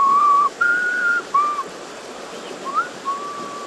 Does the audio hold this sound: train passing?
no